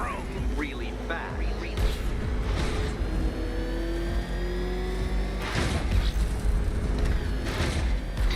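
Batmobile engine in Batman: Arkham Knight revving and roaring steadily throughout, with rising whine tones and surging bursts, under a talking voice.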